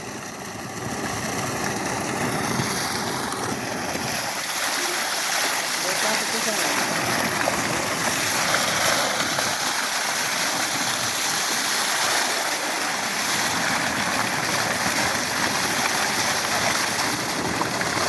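Water flows steadily in a village setting, a continuous broadband rush that holds at a constant loud level throughout, with a low engine-like hum beneath it and no clear voices on top.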